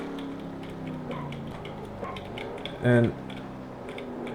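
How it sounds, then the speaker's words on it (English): Computer keyboard keys clicked to steer a car in the NR2003 racing game, a quiet scatter of small ticks and clacks under a steady engine-like drone, with a brief louder burst midway and a single spoken word. "I'm clicking my keys, I'm not using the steering wheel"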